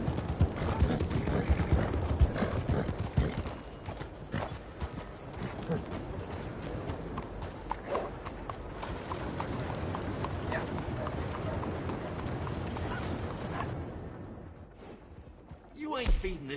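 Horse hooves clip-clopping in the video game Red Dead Redemption 2, a steady rhythmic clatter mixed with mechanical clicks and background noise, fading near the end.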